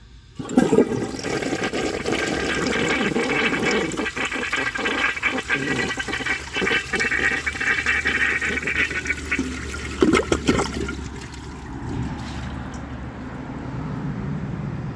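A 1994 Eljer toilet flushes with a loud, rushing surge of water that runs steadily for about ten seconds, then drops to a quieter hiss and trickle as the tank refills.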